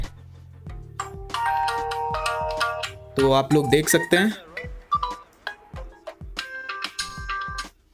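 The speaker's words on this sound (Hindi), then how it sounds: "यहाँ से हम लोग चलते हैं रिंगटोन पे।" A smartphone ringtone plays a bright, tonal melody up close, with a voice talking briefly over part of it.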